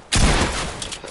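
A single loud pistol shot rings out close up in a shooting video game, with a sharp burst that decays into a short tail and no talk over it.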